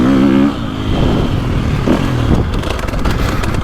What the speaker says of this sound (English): These bikes are just so easy to ride.